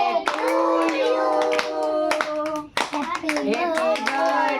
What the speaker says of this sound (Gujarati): સરસ હાલો તાળી પાડજો બધા હો